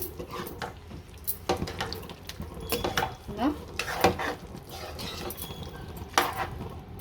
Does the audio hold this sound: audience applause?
no